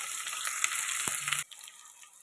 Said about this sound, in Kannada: ಇವಾಗ ಈರುಳ್ಳಿ ಹಾಕೋತೀನಿ.